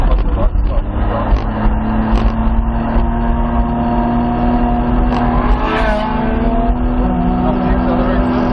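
A Supra accelerates hard while chasing an Audi, its engine loud and sustained throughout with a steady roaring drone and no clear breaks.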